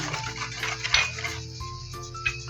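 An egg dropped into a bowl of banana bread batter with melted butter, producing a few close clinks and soft knocks against the bowl in a quiet kitchen, with no talk.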